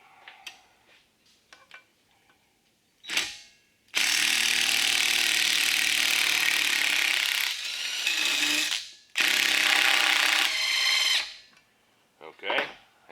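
Ratchet wrench loosening tight nuts on the final drive of a John Deere MC crawler, heard as short clicking bursts, then long sustained loud ratcheting runs with brief pauses, close by.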